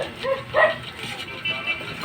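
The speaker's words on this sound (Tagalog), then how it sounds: "Takot maraming mga aso dito." Dogs bark and yip in a few short bursts at a home where many dogs are kept, with people talking nearby.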